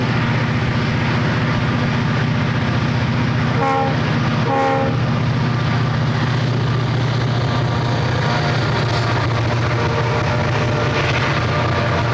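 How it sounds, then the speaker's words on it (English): An eastbound Erie Lackawanna freight led by two SD45 locomotives passes at Black Rock Cut, with a loud, steady engine rumble throughout and two brief horn blasts near the middle. "There's an eastbound with 2 SD45s at Black Rock Cut."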